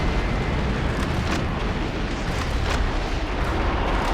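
Rocket launcher blasts in Metal Wolf Chaos, a mech action game, set off a dense, roaring wall of explosions that rumbles continuously at high volume, with a few sharper bursts rising out of the din.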